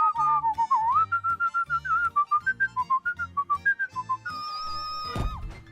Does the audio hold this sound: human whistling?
yes